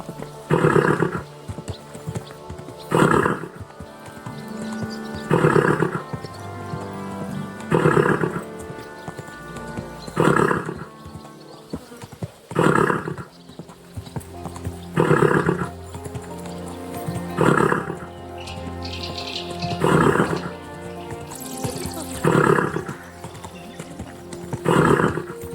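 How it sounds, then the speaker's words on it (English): A horse in the video game Kingdom Come: Deliverance 2 walks with regular, distinct hoof clops that repeat at a steady rhythm. A neigh or whinny is also heard. The sounds play at close range with no speech over them. "Easy, good horse."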